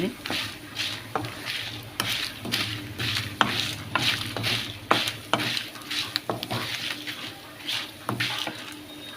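Dry spices and ingredients for chili powder are stirred and roasted in a pan, with steady rhythmic scraping and light rattling running close throughout, a few sharper clicks punctuating it.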